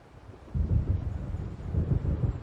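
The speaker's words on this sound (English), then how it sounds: "It seems there's a storm coming." Deep rumbling thunder and gusting wind from a storm approaching in a video game, a low roll that surges in twice over a couple of seconds with no talk.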